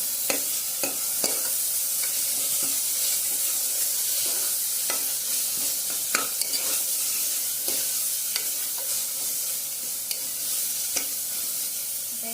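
Chicken pulao is stirred and mixed in a pan, with a quiet background sizzle under repeated light clinks and scrapes of a spoon against the metal, spaced irregularly and close.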